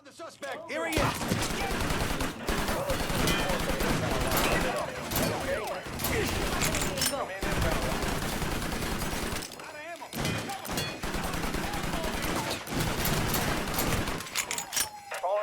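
AMT AutoMag pistol fire in the video game Mafia 3 comes as loud, rapid bursts of sharp shots. The bursts are broken by brief pauses, and a voice may be talking faintly under the gunfire.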